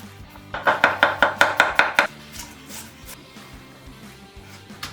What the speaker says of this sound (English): cut down into manageable sized pieces, and slice the whole thing up, nice and thin